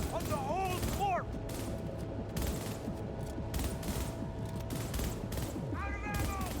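Rapid gunfire and combat sound effects in Cyberpunk 2077, a steady dense barrage with whooshing electronic tones at the start and end, continuous and loud throughout.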